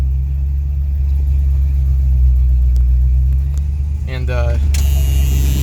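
A car engine runs at about quarter throttle, a loud steady low rumble close by with a slight rise near the end, while someone briefly speaks over it.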